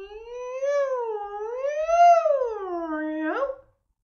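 A single sung "meow" from young voices in a music class imitates a cat, a sustained wavering pitch that rises, dips and then slides up sharply before cutting off.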